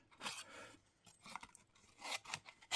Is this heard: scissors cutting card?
yes